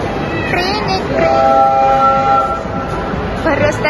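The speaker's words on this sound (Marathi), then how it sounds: "भर रस्त्यात जाणारी ट्रेन." A train runs along a busy street near a shopping mall on a crowded Sunday, its steady rumble joined by long sustained horn tones in the middle, with crowd murmur around.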